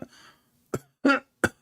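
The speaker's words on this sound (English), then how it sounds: "It's time to cough." A few short, sharp coughs close by, spaced irregularly, with a brief throaty sound at the start.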